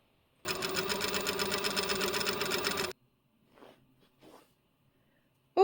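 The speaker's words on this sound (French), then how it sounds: "je passe à la machine à coudre et je couds à 1 cm du bord" A sewing machine runs steadily for about two and a half seconds while stitching a shirt sleeve, a loud even mechanical whir, then stops, leaving a few faint handling sounds.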